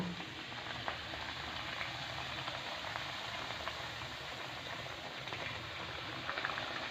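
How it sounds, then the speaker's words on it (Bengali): Luchi fry in hot oil in a wok, giving a faint, steady bubbling sizzle with small pops that continues without a break. "আমি এদিকে এক এক করে লুচিগুলো ভেজে নেব।"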